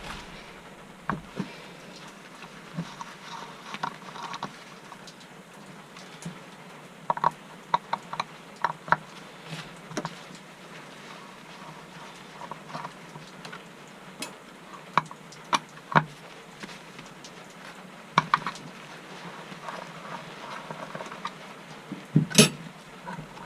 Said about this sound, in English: So we take them bolts out, which releases the bottom blade.